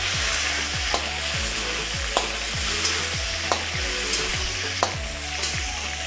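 Chilies roasting in a pan give a constant crackling sizzle, with regular clinks and scrapes of stirring every second or so, close and fairly loud with no talking.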